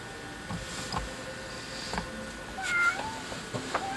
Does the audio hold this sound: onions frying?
no